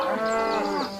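A cow gives a single drawn-out moo, close and clear, lasting about a second with no other sounds.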